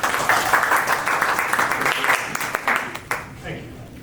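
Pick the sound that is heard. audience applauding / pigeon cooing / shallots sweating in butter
audience applauding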